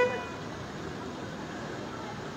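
A jammed street with car horns tooting over a steady roar of idling traffic, one horn note standing out at the start and the rest a continuous noise bed.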